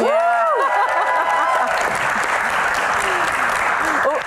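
Loud, sustained audience applause at an Indonesian comedy Q&A show for panelist Ge Pamungkas, a dense even wash of clapping with a host's voice briefly rising over it at the start.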